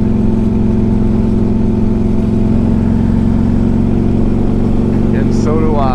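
A 2003 Harley-Davidson Electra Glide Ultra out on a road ride gives a loud, steady, low engine drone at cruising speed, and someone talks over it throughout.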